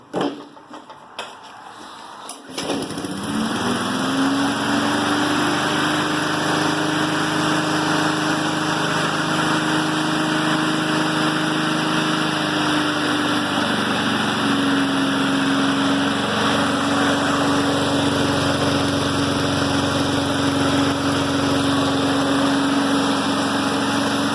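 Yard Machine lawn mower engine pull-started, catching after a brief rattle of the cord and then settling into a loud, steady idle close by, its pitch wavering slightly as it runs.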